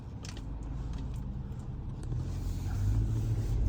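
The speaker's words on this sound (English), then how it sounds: "So let's wait for this traffic." Road traffic flows past on a historic Staten Island street, a steady close rumble of car engines that swells slightly louder toward the end, with no voices over it.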